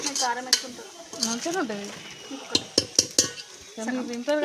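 A spoon stirs chili powder into food in a metal pot, with scraping and several sharp clinks against the vessel while someone talks over most of it.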